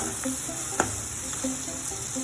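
Onions frying in ghee give off a soft, steady sizzle with scattered light crackles and pops, heard close up with no talking.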